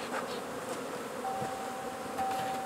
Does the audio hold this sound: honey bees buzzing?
yes